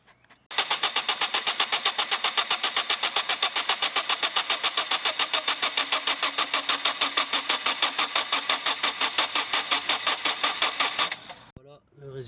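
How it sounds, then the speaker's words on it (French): A Peugeot 206 1.4 HDi diesel cranks and catches, then runs at a steady, loud rattling idle for about ten seconds before being shut off, with a brief clatter at the end. "Ensuite on va démarrer le moteur pendant un temps bien précis, 5 à 10 secondes"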